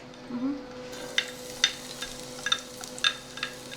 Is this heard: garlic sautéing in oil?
yes